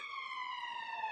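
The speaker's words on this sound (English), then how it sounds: "Apologize for the sirens." A steady, slowly falling police siren tone drifts in from a distance on a street in Edinburgh, Scotland, faint and continuous, with no talking.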